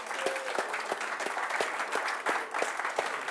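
Applause from a modest group at a Warhammer 40k tournament, sharp individual claps standing out in an irregular patter, fairly close and sustained throughout.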